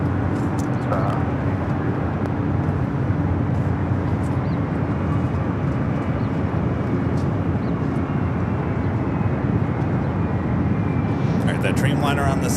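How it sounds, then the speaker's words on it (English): United Airlines Boeing 787 Dreamliner rolling down runway 25 right at LAX on takeoff, a steady broad jet roar held at distance throughout, with a brief higher whine near the end. "that Dreamliner on the south, now rolling down the 25 right. That is United Airlines 152 taking off to Hong Kong"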